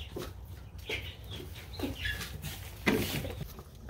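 Soft clucking from several chickens close by, scattered short calls with rustling and shuffling between them.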